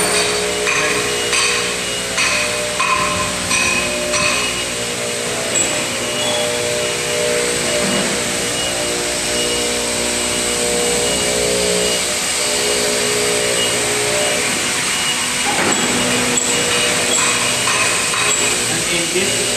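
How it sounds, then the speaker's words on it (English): CNC machines run in the molding section of an air purifier factory, giving a steady, dense mechanical roar with a sustained tonal whine and occasional clanks and knocks throughout. "And in this section is our CNC."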